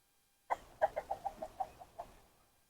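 A homestead rooster gives a short run of about eight soft clucks in quick succession, close by and fairly quiet against an otherwise silent background.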